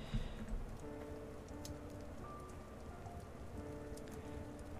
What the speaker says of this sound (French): J'en avais marre de la pluie.